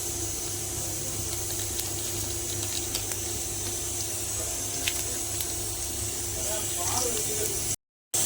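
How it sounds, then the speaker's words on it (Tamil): Cinnamon, cloves and fennel seeds sizzle in hot oil in a kadai. A steady, moderate frying hiss runs close and constant, with some soft crackles, and faint talking sounds beneath it. "கடாய் வச்சாச்சு எண்ணெய் ஊற்றியாச்சு பட்டை கிராம்பு சோம்பு இதெல்லாம் போட்டுக்கலாம்"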